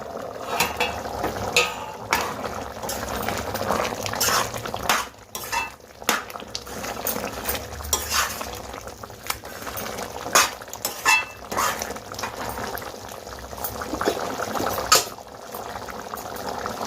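Vegetable and kabuli chickpea masala frying in a pan, giving a steady close sizzle broken by frequent scraping and clinking stirs of a spoon against the pan.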